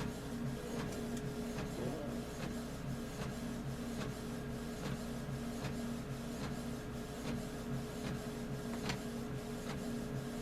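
Canon MX922 inkjet printer printing templates, a steady mechanical whir with faint tonal hum and regular clicks from the paper feed and print head running throughout, fairly close with no talk.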